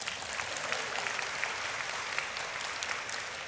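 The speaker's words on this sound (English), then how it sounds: "oh yes, clap for her, yes." A crowd applauds at a 2024 high school graduation ceremony, producing a continuous, dense wash of clapping that stays steady and moderately loud from start to finish, with no speech over it.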